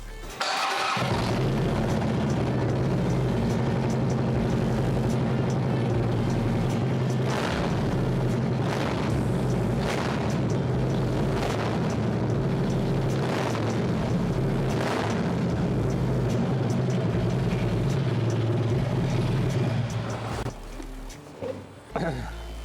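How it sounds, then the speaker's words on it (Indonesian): A 2012 Harley-Davidson Street Glide CVO with a Twin Cam 110 engine and Vance & Hines exhaust starts up, then rumbles loudly and steadily up close for about twenty seconds before cutting off. "Sekarang coba kita nyalain motornya dengan mesin twin cam 110 dan knalpot Van Science."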